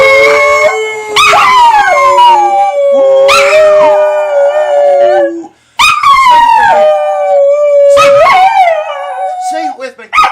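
Dogs howl along with people singing in three-way harmony, long rising and falling wails in several drawn-out phrases with brief breaks between, loud and close, voices mixed in with the howls.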